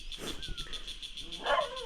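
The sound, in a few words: dog barking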